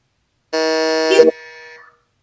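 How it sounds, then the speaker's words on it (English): A quiz-show contestant's buzzer sounds once, a loud harmonic electronic tone holding for under a second before dropping to a softer tail. "Dr. Malini going on the buzzer."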